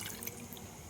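Water pours into ginger, garlic and tomato pieces being readied for a paste, a short close trickling splash with no talk.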